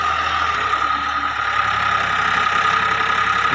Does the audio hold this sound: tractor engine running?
yes